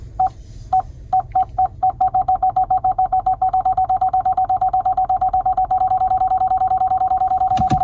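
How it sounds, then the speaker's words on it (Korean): A Chevrolet Trailblazer RS parking sensor beeps, starting with a few spaced tones, then speeding into rapid pulses before merging into one continuous loud tone. "거리를 감지해서 올려주는 그 센서가 소리가 되게 커요"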